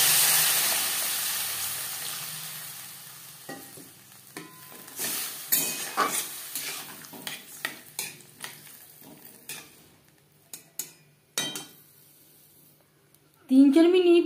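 Water poured into a pan of frying raw mango pieces for a sweet green mango chutney, with soft clatter of a spoon and pan, brief sizzles and bubbling as the mixture starts to simmer, ending in a louder hiss.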